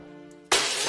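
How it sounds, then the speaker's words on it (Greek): A mirror slips from someone's hands and shatters on the floor, a sudden loud crash of breaking glass that cuts in after a quiet moment and keeps crackling with dense glassy debris. "Μου φύγει ο καθρέφτης μέσα από τα χέρια"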